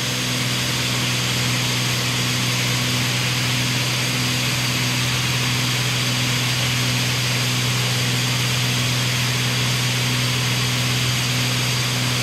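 A new Walinga grain vac runs steadily on a hot, humid day, giving a loud, constant mechanical roar with a strong low hum and broad airy rush. It holds unchanged and alone throughout, with no voices.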